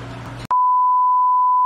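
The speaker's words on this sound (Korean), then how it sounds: "소리가 딱 알람을 치네요" Aquarium equipment sounds a loud, steady electronic alarm beep: one continuous pure tone that starts abruptly after a short burst of background noise and holds unbroken to the end.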